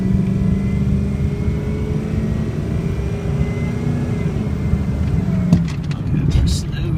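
A 2004 Ford F350 4x4 diesel pickup, about 8,000 pounds, pulls away from a stop with a steady low engine drone that rises and steps through a gear shift, with a brief clunk near the end.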